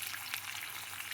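Onions frying in a pan, a soft steady sizzle with faint crackle, quiet and continuous with no talking.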